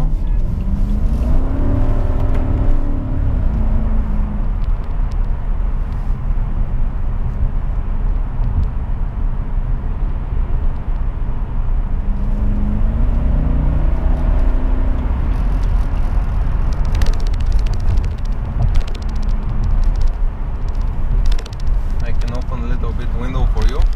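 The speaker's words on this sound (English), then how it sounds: "this big wheel E65 has all its systems working, and we can just drive it" A BMW 745i E65 sedan drives through city streets, heard from inside as a steady engine and road rumble with a few rising revs as it accelerates, and occasional passing noise outside.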